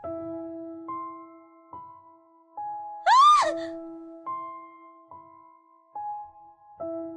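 A woman screams in a horror radio drama, one rising, wavering shriek lasting about half a second, cutting above a steady droning music bed with sustained tones.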